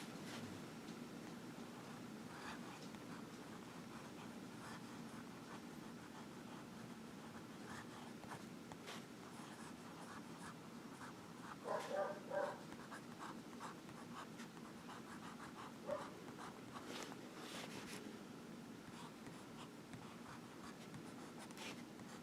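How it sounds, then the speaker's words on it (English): A Diplomat Aeros fountain pen nib moves across paper in a soft, steady scratching that runs quietly for the whole stretch, with a few brief louder strokes near the middle and no speech. "let me start doing some different writing samples so you can see this beautiful nib"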